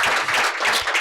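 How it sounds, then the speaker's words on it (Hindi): Audience applause for the parents at a children's program, a dense, steady patter of many hands clapping at close range, brief and with no talking over it. "प्लीज, पेरेंट्स के लिए तालियां।"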